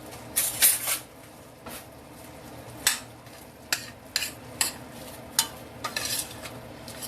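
A spoon stirs meat in a pan, making close, irregular scrapes and clinks against the metal over a soft background.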